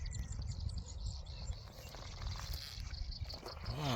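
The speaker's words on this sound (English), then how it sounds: "Wow, I can't believe how many birds are out here." Many wild birds chirp and call outdoors in the Arizona desert near Kingman, a busy steady chorus of overlapping tweets with some insect-like buzzing, moderately close and continuous with no talking.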